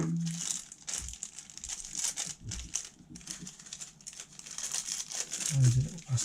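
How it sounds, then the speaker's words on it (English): Little plastic bags left over from building a 3.5-inch FPV quadcopter crinkle and rustle up close, with uneven crackling bursts running for several seconds and no talking. "Those are little plastic bags."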